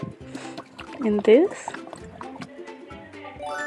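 Cake batter being poured into a pan in a 3D cake-baking video game, heard as short liquid trickling and dripping effects over cheerful game music and a narrator's voice.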